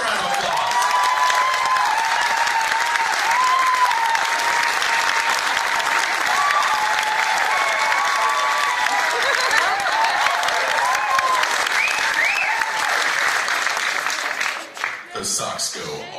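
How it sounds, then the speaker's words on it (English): A concert audience applauds and cheers the baritone singers of an a cappella group; sustained, dense clapping with whoops runs loud and unbroken for about fifteen seconds before cutting off abruptly. "Give a round of applause."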